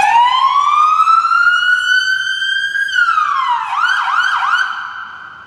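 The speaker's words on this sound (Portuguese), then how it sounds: "É acionada a sirene 100 watts." A Chevrolet emergency vehicle's 100-watt siren sounds loud and close, rising in a long steady sweep, then falling and breaking into quick repeated yelping wails that fade at the end.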